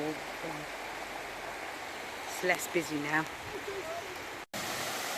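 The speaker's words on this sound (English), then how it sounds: "And there are the waterfalls." Waterfalls and a flowing river in Wales, a steady broadband rushing wash throughout, with a person speaking briefly over it.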